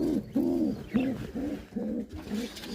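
Fantail pigeons coo close by, giving a series of about six soft, rounded, repeated coos in a steady rhythm with no talking.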